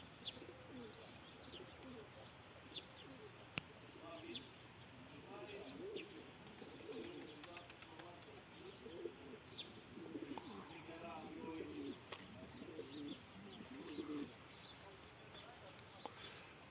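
Domestic pigeons coo repeatedly at close range, with soft chirps in between and a voice talking now and then over the birds.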